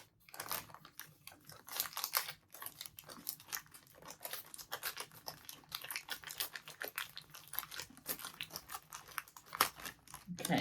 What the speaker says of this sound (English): Ready for the rustling?